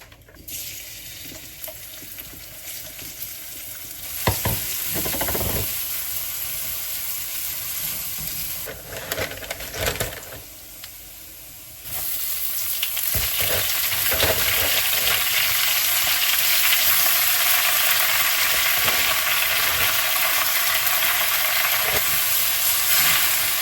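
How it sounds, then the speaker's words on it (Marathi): Vegetables dropped into hot tempering (phodni) in a pan set up a loud, steady hissing sizzle that swells sharply partway through and holds, with a few clatters of utensils earlier on, close and without speech. "पहिले भाजी इकडे फोडणीला घालते"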